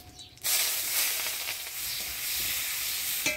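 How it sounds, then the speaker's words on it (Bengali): Chopped onion tipped into hot oil tempered with dried red chilli, whole cumin and bay leaf, erupting into a loud, dense sizzle that holds steady, close by. "এবার দিয়ে দিব পেঁয়াজ কুচি।"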